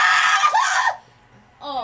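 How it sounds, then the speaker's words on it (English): A cracked, strained scream rings out loud and close for about a second, then breaks off into quiet before a short voiced sound returns at the end. "That scream was so cracky."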